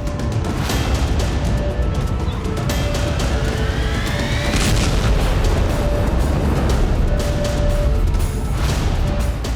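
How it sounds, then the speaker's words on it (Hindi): Loud rumbling booms and blast noise from an explosion at an airport in Tashkent roll on for several seconds, with crackling bursts and a sustained roar, with no one speaking. "यह धमाका एयरपोर्ट पर हुआ।"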